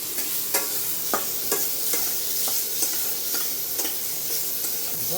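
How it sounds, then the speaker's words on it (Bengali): Mango pieces fry in a wok with salt, a steady close sizzle broken by about a dozen sharp scraping stir strokes at a regular pace, with no voices. "কড়াইতে একটু লবণ দিয়ে দিলাম, আর এই আমগুলো একটু ভেজে নেব।"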